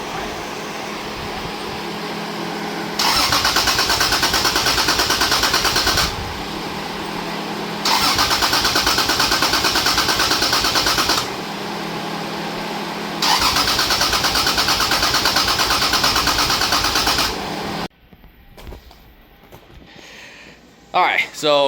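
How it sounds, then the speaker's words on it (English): Car engine cranked three times in long, loud grinding bursts with pauses between, then catching and running briefly before stopping near the end of the clip. "the car is finally running"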